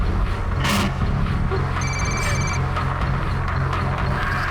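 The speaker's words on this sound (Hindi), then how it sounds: "मुझे किसी ने ये वीडियो भेजा और फिर इसी नंबर से फ़ोन कॉल भी आया।" A telephone rings with an incoming call, giving one short electronic ring burst over a constant background rumble.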